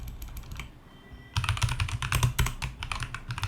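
Close, brisk typing on a computer keyboard enters a command, a quieter few keystrokes giving way to a steady run of rapid clicking taps, with no talk over it.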